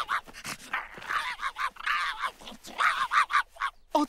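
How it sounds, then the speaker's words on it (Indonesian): Dog barking and yipping excitedly at a squirrel, a rapid, irregular string of loud, close barks with short whimpers between, no talk. "dia menggonggong seperti itu saat dia melihat tupai"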